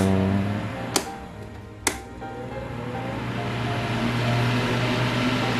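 Cheap electric fan in a Seoul apartment running with a steady broadband whir and low hum, fairly loud and close, with two sharp clicks or knocks early on.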